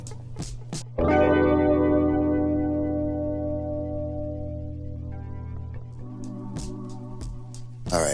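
Guitar played through the Blue Echo effect in GarageBand for an indie alternative song: a plucked chord rings out loudly and decays with echoing repeats, followed by softer picked notes and brief clicks.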